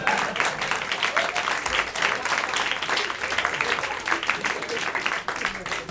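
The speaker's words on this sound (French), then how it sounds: "Vous applaudissez Daesh." A comedy club audience breaks into steady, dense applause throughout, a loud continuous patter of many hands clapping together without pause.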